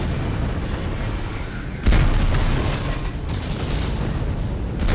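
Explosions in the video game Dead Space: a sudden booming blast bursts in amid constant dense rumbling noise, with another surge of crackling later, loud and continuous throughout.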